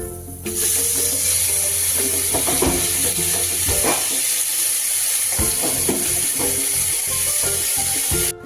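Green pea paste hits hot oil and ghee in a kadai with a sudden, steady loud sizzle, joined by occasional clinks and scraping of a spatula, with no talk.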